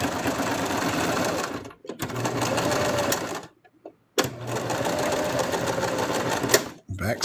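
A sewing machine stitches plush pieces in three long bursts of steady rapid whirring, stopping briefly between runs, close and loud.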